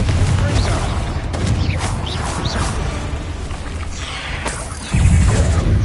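Spell blasts and explosive booms from Hogwarts Legacy combat in a mine, loud bursts with whooshes layered over continuous battle noise, a heavy impact landing near the end.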